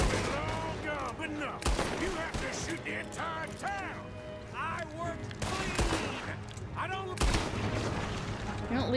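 Repeated gunshots in the Western game Red Dead Redemption 2, loud sharp cracks spaced a few seconds apart over a steady bed of battle noise, with characters shouting between the shots.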